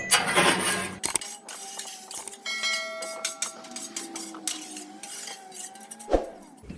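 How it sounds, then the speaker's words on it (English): A metal spatula scrapes the cooked-on residue off a Blackstone griddle coated in bacon grease, giving close, irregular scraping and metallic clinks and rings, with no talk. "I'm going to scrape off some of the junk that's on the skillet"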